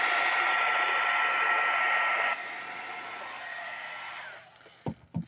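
A hair dryer blows steadily on a wet watercolor painting, loud and close, its whine dropping in pitch partway through, then fading before it is switched off with a few bumps at the end.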